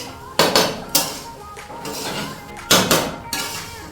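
Metal spatula repeatedly striking and scraping a pan while fried rice with black pepper is stirred: sharp clanging hits at irregular intervals over a constant kitchen background, close and fairly loud.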